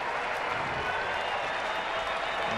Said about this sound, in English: that gets everybody on their feet in this sellout crowd here on Father's Day